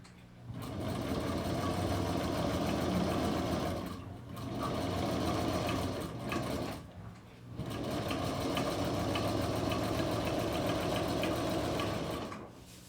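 A Featherweight sewing machine stitches in the ditch to join trim ends, its loud, close, fast mechanical whir running in three long bursts with brief pauses between them.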